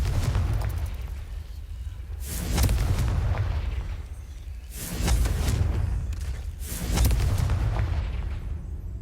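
The Confringo blasting spell in Hogwarts Legacy goes off in a series of heavy, booming explosions, each a loud burst with a rumbling roar that fades into a low, continuous rumble between the blasts.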